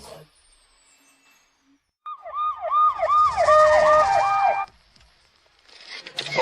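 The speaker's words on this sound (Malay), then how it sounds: "Semua ambulans ada di luar keluar lewat pintu." Ambulance sirens wailing outside, a rising and falling electronic siren that swells in loudly for a couple of seconds and then cuts away, leaving quiet background with faint noise.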